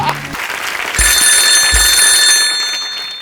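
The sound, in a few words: telephone ringing during a phone call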